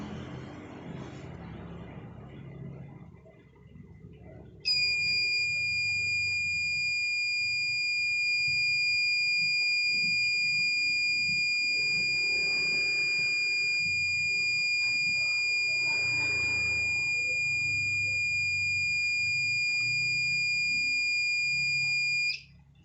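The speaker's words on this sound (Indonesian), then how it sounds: "dia merespon dan menyalakan buzzernya" Buzzer of a homemade gas-detecting fire extinguisher circuit triggered by lighter gas, a loud continuous high-pitched electronic tone starting suddenly and sounding steadily for about eighteen seconds over faint background rustling.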